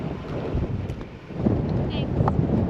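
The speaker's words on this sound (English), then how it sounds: "One thing I've noticed about South Australia is it is bloody windy." Steady wind buffets the microphone outdoors in South Australia, a continuous low rumbling roar with gusts swelling and easing throughout.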